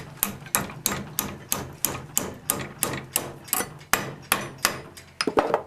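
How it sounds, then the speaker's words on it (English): Steady, evenly spaced hammer blows ring out close by as metal held in a vise is bent, about a dozen metallic strikes in a regular rhythm, ending with a quick flurry of lighter taps. "I'm going to take a hammer, and I'm going to make my first bend."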